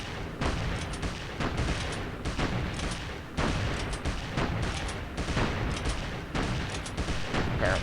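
Bursts of battle gunfire from a Panzer Grenadier attack in the strategy game Civilization III, a loud, dense crackle of repeated volleys arriving in roughly half-second clusters with brief gaps between them.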